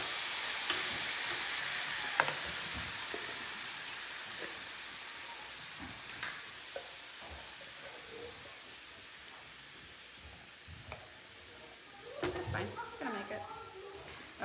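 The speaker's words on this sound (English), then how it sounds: "We're gonna deglaze this pan." Liquid is poured into a hot pan of browned chicken to deglaze it for curry, giving a soft, continuous sizzling hiss that swells near the end, with voices heard faintly in the background.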